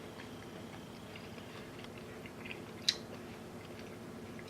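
Someone bites into and chews air-fried, beer-battered crab poppers with jalapeno, up close. The faint, crunchy chewing is steady, with one sharp crisp click near the end.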